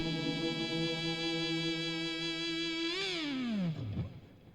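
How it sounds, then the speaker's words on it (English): A sustained electric guitar chord from a video game theme rings out, then pitch-bends downward into a swirling, echoing decay with reverb and delay trails, played alone. "now we had the reverb and the delay on the guitar"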